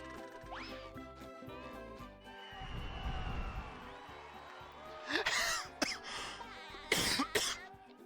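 Several sharp coughs from a player in the middle of narrating a SpongeBob: Battle for Bikini Bottom game session, bursting out over background game music and effects, with a couple of louder coughs near the end.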